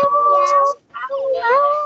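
Two drawn-out meows, voiced by children imitating a cat, ring out close and clear with a short break between them.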